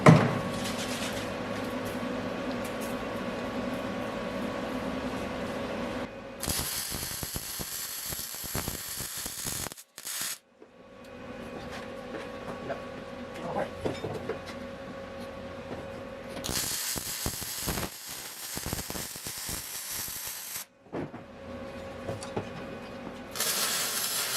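Tack welding a tube into place on a roll cage for a Honda-powered MR2 built into a VW Bug body, with loud bursts of arc crackle around the sixth and seventeenth seconds and a steady workshop hum between them.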